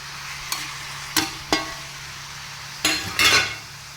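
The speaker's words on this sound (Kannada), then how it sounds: "ಟೊಮೆಟೊ ಹಾಕ್ಬಿಟ್ಟು ಇದನ್ನು ಒಟ್ಟಿಗೆ ಕೂಡಿ ಬಾಡಿಸ್ಬೇಕು." Tomatoes are sautéed in a pan with salt added, a spatula stirring and scraping in a few sharp clinks and scrapes over a low steady sizzle, close and without talking.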